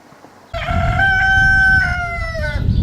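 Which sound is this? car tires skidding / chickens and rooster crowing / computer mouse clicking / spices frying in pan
chickens and rooster crowing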